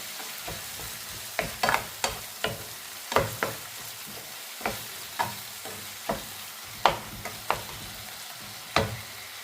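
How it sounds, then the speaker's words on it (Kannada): Tomatoes fry in a pan with a soft, low sizzle. Over it come about a dozen sharp, close spatula scrapes and taps at uneven intervals. No voices. "ಟೊಮೊಟೊ ಹಣ್ಣು ಹಾಕ್ಕೊಂಡು ಫ್ರೈ ಮಾಡ್ಕೋಬೇಕು"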